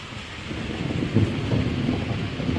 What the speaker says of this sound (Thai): แล้วก็ฟ้าร้องเสียงดังมาก